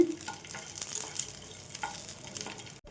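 Curry leaves fry in oil in a pan for a curry leaf chutney, giving a steady soft sizzle with the scrape and shuffle of stirring throughout, close and moderate in level.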